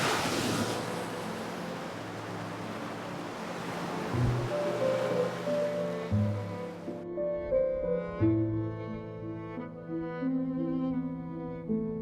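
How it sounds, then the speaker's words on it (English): Ocean surf rolling in along the South West Coast Path near Holdstone Down, a steady broad wash of waves that fades out midway as gentle music takes over. "listening to the waves, feeling the breeze"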